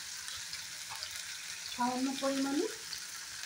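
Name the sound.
tomato and onion with vegetables frying in pan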